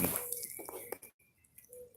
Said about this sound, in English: As you guys can see, it's dripping here.